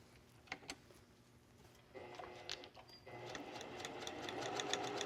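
A sewing machine stitches along the edge of bias tape as a seam finish on silk, starting with light ticking and then running steadily with a close, continuous mechanical whir.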